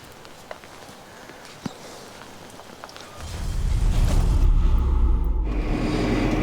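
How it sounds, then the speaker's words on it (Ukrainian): Sunday rain on an outdoor home repair job, faint scattered drips and knocks at first, then a sudden swell into a loud, steady downpour hiss that persists to the end. "дощ падати теж не перестає"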